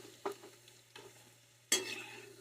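Drumstick (moringa) pieces fry in oil for a pickle, giving soft sizzling and a few stirring bursts, the last one louder and brighter, all faint and close.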